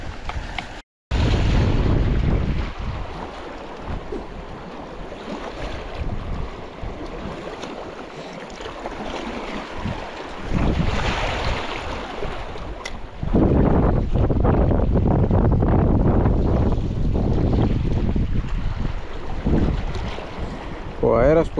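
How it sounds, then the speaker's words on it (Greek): Strong wind buffets the microphone without a break while light-tackle fishing on a choppy sea, a rough roar that swells and eases over lapping water. "Ο αέρας που έχει στην επιφάνεια δεν ευνοεί το πάκι."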